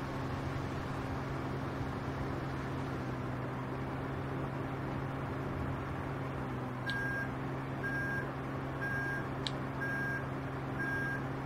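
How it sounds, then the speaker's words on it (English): A farm vehicle in the game Pure Farming 2018 sounds a steady series of high reversing beeps over a constant droning engine hum, with no one talking. "It's got the old backup beeping. That's for safety. It beeps for safety."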